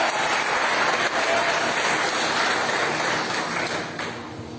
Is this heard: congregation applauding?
yes